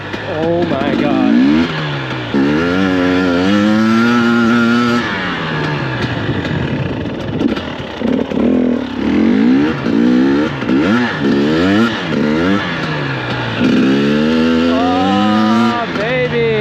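A dirt bike engine revs hard on a snowy winter night trail ride in the Pacific Northwest, pitch climbing and falling in repeated loud surges close by, with a rider's voice calling out over it.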